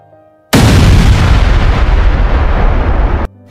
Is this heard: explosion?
yes